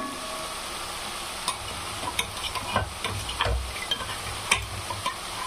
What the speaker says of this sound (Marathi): या तिळाला पण पूर्ण असं फ्राय करून घ्यायचं आहे